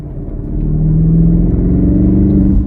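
A 2020 BMW X7 M50i engine revs up into a deep, loud rumbling growl that holds steady, close by, with no voices over it.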